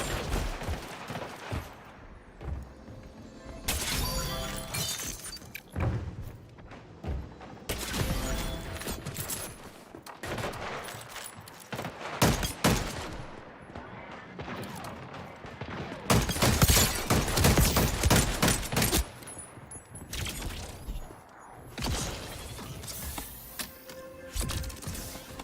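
Gunfire from a shotgun and other weapons in the battle royale video game Warzone: dense bursts of loud shots and mechanical clatter that keep coming in waves across the whole stretch, with no talking over them.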